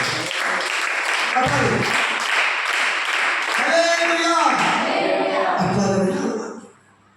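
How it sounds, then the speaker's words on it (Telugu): A church congregation applauds during a sermon, with dense sustained clapping from a crowd that continues for several seconds before fading out, while a voice talks over it. "చప్పట్లు కొట్టండి"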